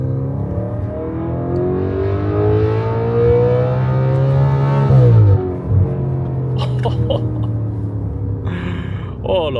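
A deep Audi RS5 4.2-litre V8 engine revs and climbs through the gears, dropping sharply on a downshift, then rumbles on as voices react briefly near the end.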